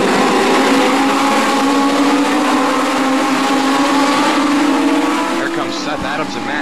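Semi pro race cars roaring around a track at a Winter Nationals feature, engines loud and continuous at full throttle with a commentator talking over them.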